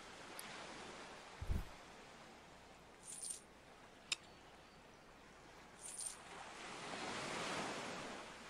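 Waves wash steadily as a boat sails across the sea in a fantasy video game, a faint continuous surf hiss with a few soft knocks and clicks scattered through it.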